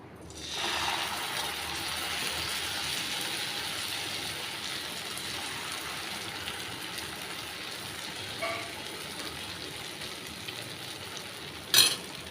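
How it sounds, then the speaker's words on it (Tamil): Tomato dosa batter from Udupi is poured onto a hot griddle and sizzles steadily throughout, a broad close hiss with a soft scrape partway through and a sharper clink near the end. "தோசைட்டி பாருங்கள் நல்லா ஹீட் ஆகிடுச்சுங்க இப்போ வந்து மாவு ஊற்றிக்கிறேன்"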